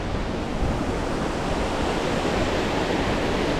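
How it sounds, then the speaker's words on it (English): Water rushes at Cotter Force, a waterfall and stream, as a steady, dense, loud roar with no breaks and no voices. "So the waterfall is just a little bit further down where it starts dropping down."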